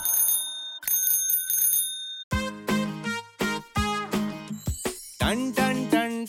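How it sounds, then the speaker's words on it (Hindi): Bicycle bell rings in quick tinkling bursts within a Hindi children's rhyme, followed by bright melodic chimes and tones over steady music, loud and upfront throughout. "टन टन टन टन घंटी बजाते"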